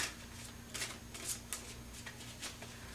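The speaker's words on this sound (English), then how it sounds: "Every time I shuffle them, they want to fly out." Tarot cards being shuffled by hand, a series of crisp riffling bursts close up, several quick flutters separated by short pauses over a faint steady hum.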